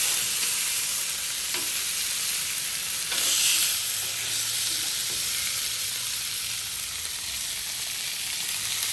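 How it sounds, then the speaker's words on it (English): New York strip steaks sizzle steadily on a Blackstone griddle, a constant close hiss with a brief louder flare as they are flipped around the midpoint, no voices. "Give the steaks a look. Yeah, see, they're getting nice. Give them just another flip."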